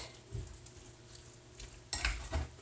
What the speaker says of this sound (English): And we've mixed it